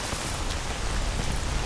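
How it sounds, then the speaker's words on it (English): Steady rain in modded STALKER gameplay, a loud, even hiss of falling drops that runs unbroken for the whole short stretch with no voices over it. "Why is it still raining?"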